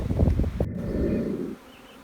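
A dense mass of honeybees on a graft frame inside a hive hums in a loud, steady drone up close, then drops sharply and fades after about a second and a half.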